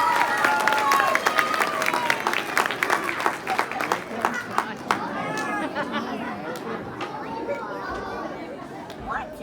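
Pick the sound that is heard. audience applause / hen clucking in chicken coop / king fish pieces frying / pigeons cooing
audience applause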